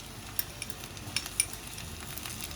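Capsicum hits a pan of browned garlic and onions, setting off a steady low sizzle with a few light clinks of a utensil against the pan, close and fairly quiet.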